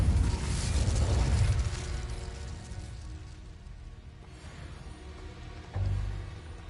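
A Confringo fire spell blast in Hogwarts Legacy erupts in a loud, booming burst up front, then fades into a rumbling crackle, with a second heavier thud near the end.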